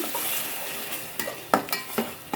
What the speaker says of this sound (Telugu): ఇప్పుడు టమాటా పేస్ట్ వేసేద్దాం